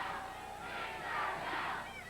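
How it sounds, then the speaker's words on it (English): A wrestling crowd chants derisively at Rip Rogers, a rhythmic, swelling roar of many voices heard from a distance and fairly faint. "Well, the crowd gives Rogers a Tinkerbell chant."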